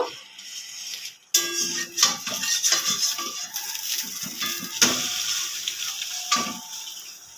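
An egg fries in white oil in a hot pan with a close, crackling sizzle that starts abruptly and carries on alongside spatula scrapes and taps as it is flipped; no voices.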